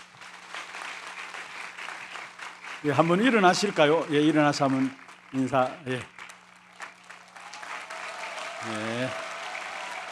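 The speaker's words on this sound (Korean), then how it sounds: "우리 선교사님 네 분들 우리 앞자리에 계시는데 박수로 환영하도록 하겠습니다." A church congregation claps to welcome four visiting missionaries during a Sunday service, steady applause running beneath someone speaking over a microphone, then continuing softly after he pauses.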